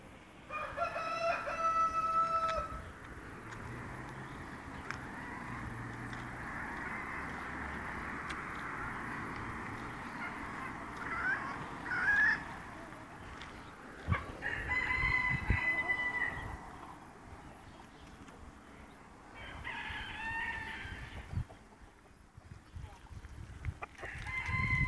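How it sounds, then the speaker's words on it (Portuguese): A bearded white bantam rooster crows several times at moderate distance, its shrill calls rising and falling, with clucking and a faint low background rumble between the crows. "galinho barbudo, que bonito."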